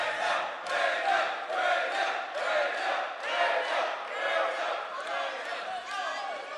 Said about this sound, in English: Crowd getting loud once again here.